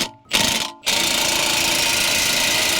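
Impact wrench pressing a front wheel bearing into a Toyota Avalon, two short bursts, then a loud continuous rapid hammering, close up, with no talking.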